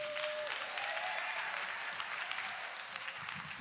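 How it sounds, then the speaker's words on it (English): Audience at a Saturday morning community forum gives sustained, even applause, a steady mass of clapping with a faint tone near the start and a sharp knock at the very end. "A big, big hand for Attorney Reverend Jeanette Wilson, please."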